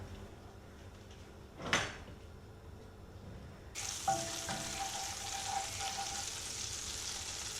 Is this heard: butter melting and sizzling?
yes